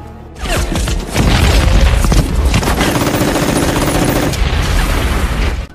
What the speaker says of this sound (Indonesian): pasukan Jerman menyambut kedatangan mereka dengan menghujani tembakan tiada henti